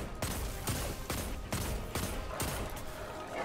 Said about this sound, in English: I'm going to try and just shoot them all.